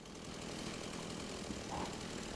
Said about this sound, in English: Chainsaw. Love it.